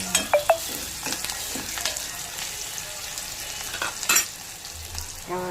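Vegetables and onion fry with masala in a pan for cauliflower and chickpea curry, a loud continuous sizzle broken by several sharp spoon scrapes and stirring knocks; no one speaks.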